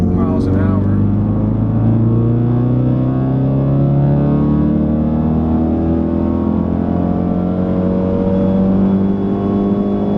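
A modded full bolt-on Ford Focus RS pulls hard in fourth gear from about 2,500 RPM, a loud steady engine drone with harmonics climbing slowly and continuously from inside the cabin.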